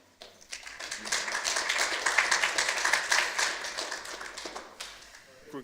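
Audience applause at a city council work session, a dense patter of many hands clapping that swells quickly, holds steady for several seconds, then thins out and fades at the end.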